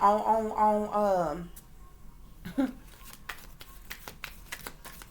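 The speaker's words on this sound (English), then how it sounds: "when I first started shuffling to get ready to pull the cards out." A voice speaks briefly, then cards are shuffled up close in quick riffling bursts with short pauses between them.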